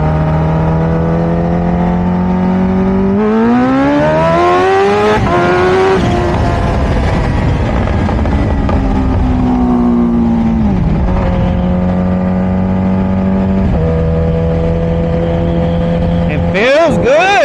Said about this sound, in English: Let's just get a little first gear hit here and see